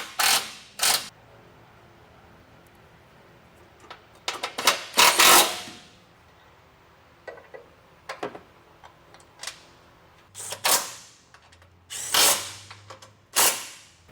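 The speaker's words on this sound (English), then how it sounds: "And that's our 12mm socket again." A ratchet with a 12mm socket tightens bolts on a third-generation Toyota Tundra while rock sliders are fitted: close bursts of rapid clicking, some long and some short, separated by quiet pauses.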